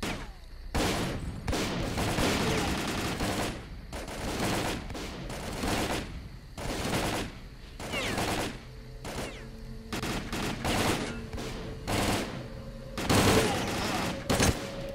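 Gunfire in the video game S.T.A.L.K.E.R. Call of Pripyat: loud bursts and rapid volleys of shots recur throughout a firefight, with brief pauses between strings of fire.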